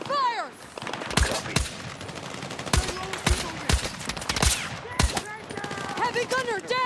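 Rapid gunfire in the Battlefield 6 campaign, a dense series of sharp close shots crackling over several seconds amid battle noise, with shouted voices mixed in.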